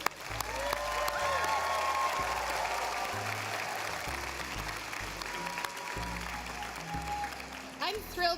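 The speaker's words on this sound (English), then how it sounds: "One more big round of applause for our new graduates." Audience at a Vancouver Community College spring convocation applauding the new graduates, a broad sustained wave of clapping from a large crowd that holds steady throughout with a low hum and faint voices beneath it.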